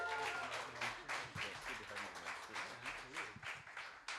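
Applause from an audience after a live music set at Ted's, dense clapping swelling and fading over a few seconds, faint and somewhat distant, with voices mixed in.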